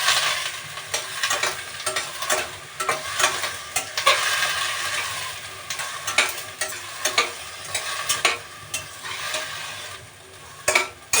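Pav bhaji vegetables, including raw onion and tomato, stir-fried in oil with repeated rhythmic spoon scrapes over a continuous close sizzle, no voices.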